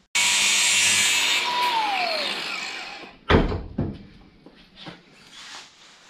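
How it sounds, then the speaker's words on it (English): An angle grinder cuts a bicycle brake inner cable on a Norco Coaster 16, giving a loud, close whine for about three seconds before it winds down, followed by a few sharp clanks and handling knocks. "I'm just going to be really lazy and use the angle grinder."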